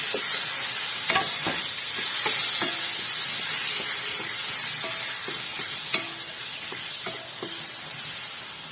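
Tomato and chicken breast frying in a pan, a constant sizzle and hiss with repeated clinks and scrapes of stirring, close up.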